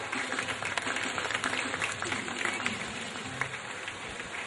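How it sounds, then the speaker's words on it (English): An audience at a school Mother's Day celebration applauds a mother, with dense, sustained clapping that has a rain-like patter and a few louder claps standing out, and faint voices underneath. "Like a big round of applause for this proud and lucky mother."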